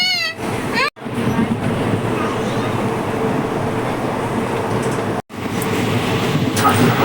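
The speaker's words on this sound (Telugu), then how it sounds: "చూడండి ట్రైన్ ఎలా వెళ్తుందో," Steady rumble and rush of a passenger train on a journey to Vizag, heard from inside the carriage, running continuously at close range with two brief dropouts, with people talking faintly underneath.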